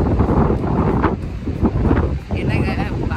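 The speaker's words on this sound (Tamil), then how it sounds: "பேசுறதுக்கே முடியல, பயங்கர காற்றுலாம் அடிக்குதா, அதான் பேச முடியல." Strong wind buffets the microphone outdoors in Northern Ireland, a loud, gusting roar that rises and dips in waves, with a voice partly buried beneath it.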